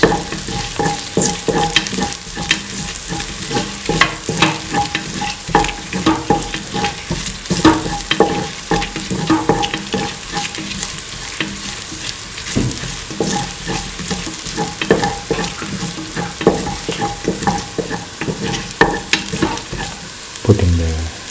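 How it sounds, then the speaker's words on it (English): Duck and chili mixture being sautéed in a pan, loud and close: an unbroken hiss of frying with dense, rhythmic scraping and clattering of a spatula stirring throughout, no speech. "Saute mix."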